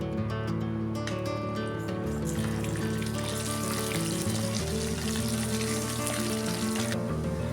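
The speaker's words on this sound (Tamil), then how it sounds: "இங்க பாருங்க, இவ்வளோ ஃப்ரை ஆனா போதும்." Boiled taro root fries in hot oil in a pan for a South Indian vatha kuzhambu. A loud, steady sizzle carries on alone throughout.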